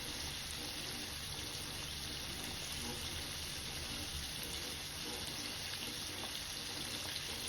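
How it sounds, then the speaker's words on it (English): Chicken frying in hot oil, a steady dense sizzle and crackle that holds at an even level from start to finish without pause. "Now see how that chicken is frying up."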